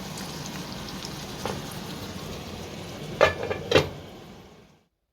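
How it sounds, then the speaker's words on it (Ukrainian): Soft, steady sizzling of mushrooms frying in a pan, broken by a few sharp clinks and scrapes of a utensil before the sound cuts off. "Смажу собі на сніданок грибочки і притрусила моцарелкою."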